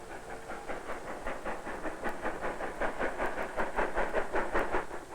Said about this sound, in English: He hears the train coming into the station